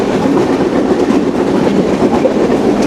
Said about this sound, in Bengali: এই কপোতাক্ষ এক্সপ্রেস ট্রেনটি কিন্তু খুলনা থেকে রাজশাহীর উদ্দেশ্যে নিয়মিত চলাচল করে